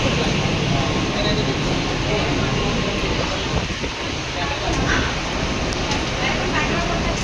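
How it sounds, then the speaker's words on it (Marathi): A steady, loud rumble and rattle fills the inside of a moving passenger train, a continuous broadband roar with a few faint clicks above it. "फायनली आम्हाला ट्रेन भेटली"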